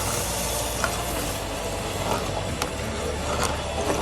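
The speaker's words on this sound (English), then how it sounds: "And then now you can add the thick coconut milk. Now stir it well." Thick coconut milk being stirred into kiri bath in a pot on the heat, a steady soft sizzle and bubbling hiss with faint scraping strokes of a spoon, quiet and continuous, no voices.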